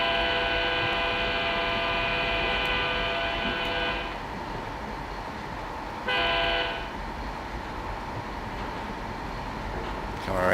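A simulated passenger train in Trainz 06 rumbles steadily while its horn sounds long and loud, stops, then gives a second short blast, with a low mechanical drone underneath.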